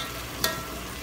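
Tomato and onion cooking in a pan with plenty of released juice, a soft steady sizzle and bubble with one brief sharp clink of a utensil against the pan.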